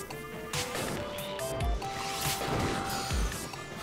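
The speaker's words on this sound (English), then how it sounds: "And the dude shatters into nothing." An icy Lizalfos in Breath of the Wild shatters after a fire arrow strike, a bright crash followed by a few thumping impacts amid game music, close and clear.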